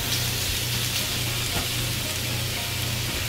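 Shrimp sizzle steadily in a hot pan with aromatics, a dense continuous frying hiss with faint stirring clicks underneath and no talking.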